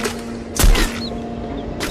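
A single sharp gunshot cracks out in a shooter video game for a headshot, a loud isolated bang over a low steady game hum, with a fainter burst near the end.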